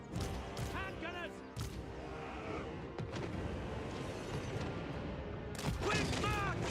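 Handgunner volleys in the Total War Warhammer battle game: crackling gunfire and sharp bursts amid a dense battlefield din with shouted voices, the loudest clusters at the start and near the end.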